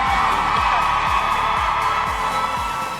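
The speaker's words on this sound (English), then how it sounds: "the crowd has been fantastic. You can hear them. They're all really loud." A live crowd at TwitchCon Las Vegas cheers and shouts during a Minecraft Championship esports event, a loud sustained roar of many voices with rhythmic low thumps underneath.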